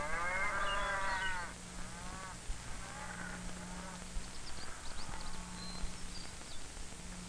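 Cattle moo in a few drawn-out, low, harmonic calls, the first loud and close and later ones softer, over a steady background hum.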